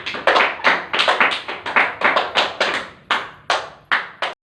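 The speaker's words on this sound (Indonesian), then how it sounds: "Berikan Aspar tepuk tangan." A classroom of students claps in a quick, loose burst of applause, sharp close hand claps that ripple for about four seconds and then stop abruptly.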